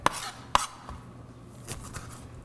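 A knife cuts a lime on a kitchen board while making egg rolls, giving two sharp, close clicks half a second apart, followed by a few lighter taps in a quiet room.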